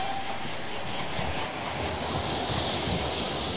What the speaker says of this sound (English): The train now approaching platform one is the 3:28 from Paddington.